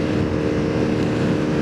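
Dafra NHX 190 motorcycle engine running at speed on the road in sixth gear, a steady, loud drone mixed with wind rush, continuous throughout with no talk.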